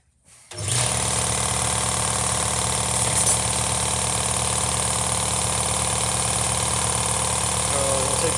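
An air compressor runs steadily in a workshop during cleaning for reassembly, kicking on sharply and then holding a loud, constant mechanical drone with a rattling, buzzing texture and no talk over it.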